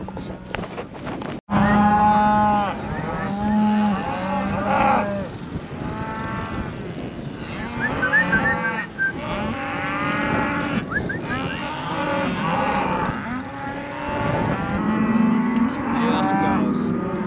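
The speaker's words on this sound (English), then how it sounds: "So we're just gonna chase these cows into one corner" Cattle moo over and over while being chased into a corner of a ranch pen, long low calls overlapping from several animals close by, forming a loud continuous chorus of lowing with no speech.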